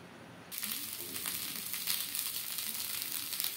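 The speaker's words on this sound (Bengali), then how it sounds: "আমি এগুলো ঘি দিয়ে ভাজছি" Poha tikkis sizzle in ghee on a hot tawa, a steady close crackle that jumps up in loudness after a brief quieter start and then keeps frying without a break.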